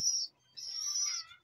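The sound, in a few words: pigeons calling in their loft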